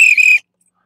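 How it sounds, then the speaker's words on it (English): Short, shrill whistle blast lasting under half a second, loud and close, with a brief dip in the middle, followed by silence. "Whistle, the unofficial, official whistle."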